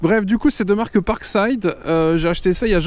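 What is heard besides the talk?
No distinct noise like a dog, phone or traffic.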